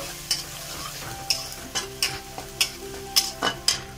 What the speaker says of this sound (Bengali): প্রথমে আমি রসুন দিলাম আর কাঁচা লঙ্কা দিয়ে একটু হালকা করে নেড়ে চেড়ে নেব।